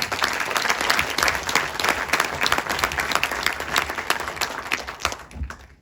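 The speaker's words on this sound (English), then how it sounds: "give a really big round of applause to your beautiful wife, Suchi." An audience at a documentary event gives a big round of applause, dense sustained clapping from many hands that stays loud for several seconds before tapering off at the end.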